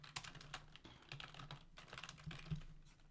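Rapid typing on a computer keyboard while coding a tower defense game, with close, quiet irregular clusters of key clicks and clacks over about three seconds and no speech.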